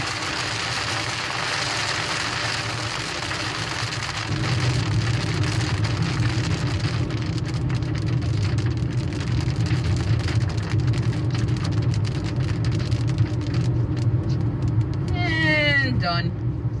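Heavy rain pours on a car driving along a South Carolina highway, a dense steady hiss and patter over low road and engine rumble that swells louder partway through, ending with a brief squeaking sweep.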